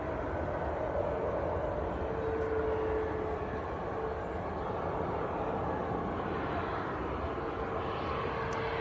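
A TUI Boeing 737 Max airliner at Manchester Airport, its engines giving a loud, steady roar from a moderate distance that holds unbroken throughout.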